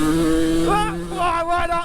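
An old Suzuki RM85 kids' motocross bike is being ridden, its small two-stroke engine buzzing loud and close with quick rev changes rising and falling over a couple of seconds.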